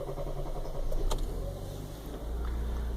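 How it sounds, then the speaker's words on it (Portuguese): A Hyundai Creta SUV just started in the morning, its engine idling with a low steady drone and a faint whining mechanical gearbox noise, a brief click partway through and the idle deepening near the end. "Vou ligar ela neste momento para vocês perceber o barulho que ela está fazendo no câmbio."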